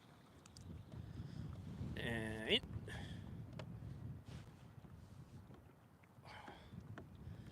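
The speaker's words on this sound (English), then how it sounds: "it's really windy today" Wind gusts across a river during winter kayak fishing for channel catfish on the Upper Mississippi, a steady low buffeting rumble on the microphone, with a brief spoken word and faint movement partway through.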